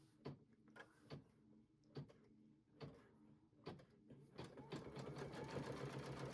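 An embroidery machine stitches quilting lines onto a fabric bowl cozy, running as a steady whirring hum with rhythmic mechanical clacks that build into continuous stitching toward the end, with no voices.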